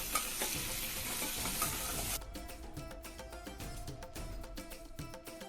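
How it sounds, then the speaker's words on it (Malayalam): Sausage masala with chopped tomato stirred in a pan: a loud, hissing sizzle that drops sharply after about two seconds, leaving steady frying crackle broken by repeated scraping strokes of the spoon, with no voices. "നമുക്ക് ലാസ്റ്റ് ഇതിലേക്ക് ചെറിയൊരു ടൊമാറ്റോയുടെ അരിഞ്ഞത് ചേർത്ത് നല്ലപോലെ ഇളക്കി."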